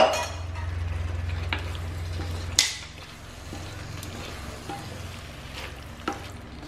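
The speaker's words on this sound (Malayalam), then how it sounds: "എന്നിട്ട് നമുക്ക് നന്നായിട്ട് സോട്ട് ചെയ്ത് കൊടുക്കാം." Beef sizzles and fries as it is sautéed in a hot pan, a steady crackling hiss broken by a sharp spatula or pan scrape near the middle and a few lighter clinks, with no talking.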